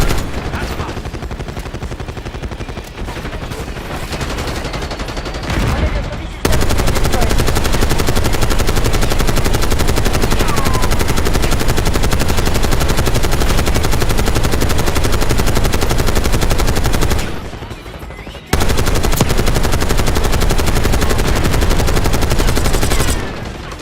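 Video game combat with sustained gunfire and a helicopter, loud and dense throughout, with two brief drops in level before the roar resumes.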